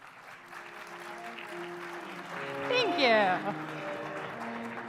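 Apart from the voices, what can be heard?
audience applause for a speaker coming to the stage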